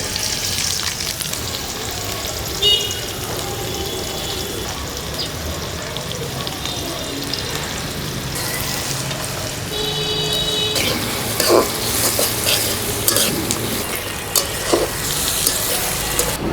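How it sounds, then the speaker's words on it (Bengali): Green chilies and onion frying in oil for a meat dish, a loud, dense crackling sizzle with stirring scrapes and a few sharp pops, continuous and close, no talking. "মাংসের জন্য দিয়ে দিচ্ছি তেল, দিয়ে দিচ্ছি কাঁচামরিচ, পেঁয়াজ"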